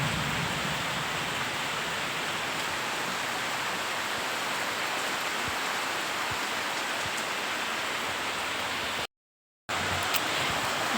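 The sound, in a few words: heavy rain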